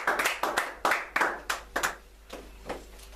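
A church congregation claps its hands in a quick, uneven burst of sharp claps that thins out and fades over a few seconds.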